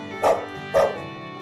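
Two loud dog barks, evenly spaced about half a second apart, used as a sound effect in a children's story about a dog chasing an intruder out of its doghouse on a cold winter day.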